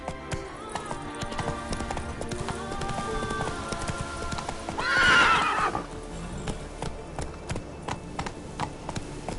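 Roach, a horse in The Witcher 3 on Skellige, whinnies and clip-clops at a gallop, hoofbeats steady throughout with a louder neigh midway, a voice calling out over it.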